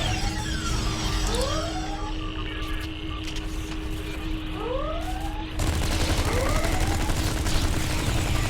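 Sci-fi phaser gunfire from Klingon boarding parties aboard the USS Yorktown in Star Trek Online, rising zapping sweeps and repeated energy shots over a steady engine hum, growing louder and denser in the last few seconds.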